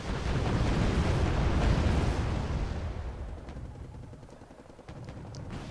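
Heavy gunfire and explosions from a Wargame Red Dragon battle, a dense loud roar of blasts that gradually thins into scattered sharper shots and pops.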